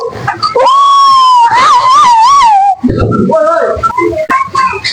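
A person imitates a jackal howling with a long, loud, wavering whistle-like howl lasting nearly two seconds, followed by shorter yelping calls and brief background voices.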